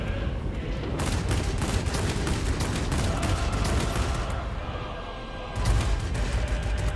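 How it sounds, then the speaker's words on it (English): Rapid cannon fire from a MiG-15bis fighter in World of Warplanes rattles on in dense, loud bursts for several seconds, with a brief lull near the end before the firing resumes. "Really got to use short bursts with these cannons, as they really overheat easily."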